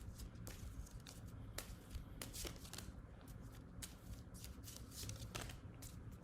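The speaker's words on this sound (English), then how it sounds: "So I'm gonna pull 3 little oracle cards here." Oracle cards being shuffled by hand in a steady run of soft riffling and sliding taps, close and continuous throughout.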